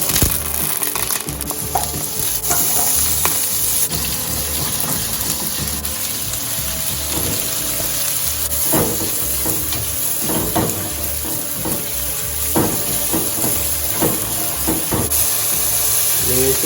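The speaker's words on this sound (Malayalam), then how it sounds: "വെജിറ്റബിൾ ഒന്ന് ഫ്രൈ ചെയ്തെടുക്കാം." Vegetables fry in olive oil, giving a loud, continuous close sizzle with scattered stirring clatter and water-like hiss throughout, no speech.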